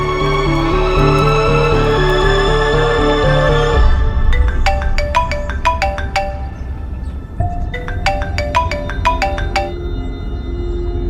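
A phone ringtone plays, a sustained electronic tone giving way to a repeating pattern of bright chiming beeps over background music, clear and steady.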